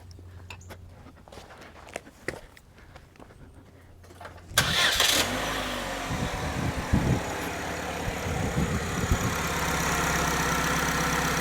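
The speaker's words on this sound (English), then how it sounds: "So now let's go ahead and give her a start and make sure she's running okay." A Chevrolet Cobalt with a GM Ecotec 2.2L engine and a freshly replaced serpentine belt starts after a quiet pause with a short crank. It then settles into a steady, close idle that holds to the end.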